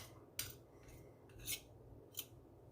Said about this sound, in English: now we're going to scrape this off with the chocolate spoon